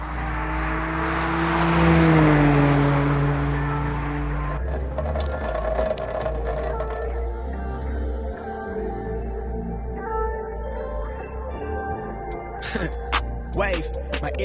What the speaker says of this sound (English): a new one-off track-only exhaust